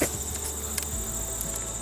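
Honeybees buzzing around a wooden beehive box, a steady, continuous hum with no voices.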